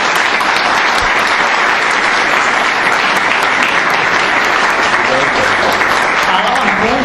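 An audience applauds steadily to welcome a speaker, Aleksandra Ninković-Tašić, in Novi Sad, a loud, dense, continuous roll of clapping from a full hall.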